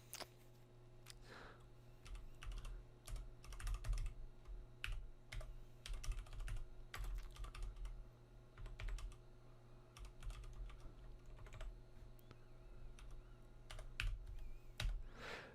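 Someone types on a computer keyboard while coding in Python 3, with a microphone just in front of the keys. Quick clicks come in irregular bursts and short pauses, close and crisp over a low hum.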